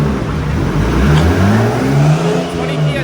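A turbocharged car engine runs hard on a dyno at 20 PSI of boost, a loud sustained roar with rising, sweeping pitch through the whole stretch.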